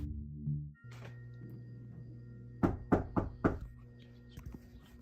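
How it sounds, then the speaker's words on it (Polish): Several firm knocks land on the back door of an apartment at night, a quick group of four hollow raps followed moments later by a softer pair, with a low hum in the otherwise quiet room. "znów usłyszał pukanie, tym razem z tylnych drzwi jego mieszkania"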